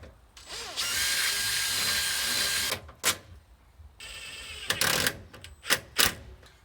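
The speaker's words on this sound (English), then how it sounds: "drill the hole with the right size bit." A power drill whines steadily for about two seconds while drilling a hole in a folding sawhorse, then stops, followed by a series of sharp clanks and knocks from nearby tools.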